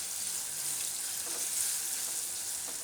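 Mango pieces sizzle steadily in a pan, a constant close hiss of frying that carries on evenly with no voices.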